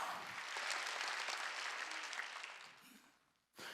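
A church congregation at a Wednesday service claps loudly together, then the clapping thins and fades out. A short, sharp burst of clapping starts again right at the end.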